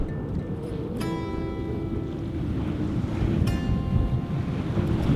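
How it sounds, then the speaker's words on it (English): Wind rushing over a sailboat at sea in open water, a loud, continuous blustery roar and microphone buffeting, with a couple of sharp metallic rigging clinks standing out over the noise and no talk. "we're getting nice wind just zipping over the top of it"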